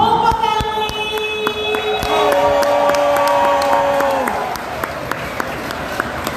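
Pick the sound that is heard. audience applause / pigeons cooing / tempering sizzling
audience applause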